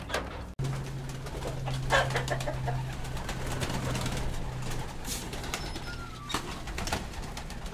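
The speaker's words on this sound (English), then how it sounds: "Just so many white pigeons" White pigeons coo steadily inside a loft, a soft low murmur of several birds running under the whole scene alongside other faint bird sounds, with a brief sharp knock near the start.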